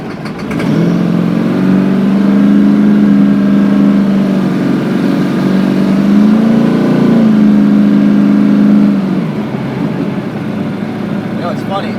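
A 1972 Dodge Challenger with a 426 HEMI idles loudly in neutral, a deep, steady rumble with a slight rise in the middle before settling back down, with people talking over it.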